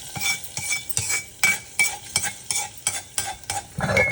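Mustard seeds, cumin, fenugreek, urad dal and two dried red chillies tempered in an iron pan for rasam: a spoon scrapes and clinks rhythmically against the metal over a steady sizzle, close and fairly loud.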